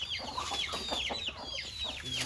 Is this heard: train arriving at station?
no